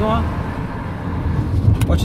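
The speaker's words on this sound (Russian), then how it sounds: "Очень шумно, видите, дорога бетонка," Car tires roll loudly over a concrete road, a steady dense road roar heard from inside the moving vehicle, with someone talking over it.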